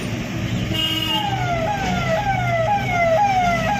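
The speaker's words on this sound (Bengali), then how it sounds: "অ্যাম্বুলেন্স ঢুকেছে, ঠিক আছে।" An ambulance siren wails on a busy road, its rising and falling tone repeating in loud cycles. Steady traffic noise runs underneath.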